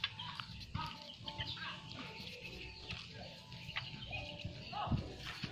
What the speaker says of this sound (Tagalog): Yan ang kanyang mga alagang manok.